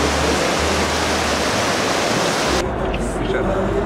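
Tolmachev waterfall in Kamchatka roars with dense, steady rushing water, loud and close, a constant broadband wash with no break.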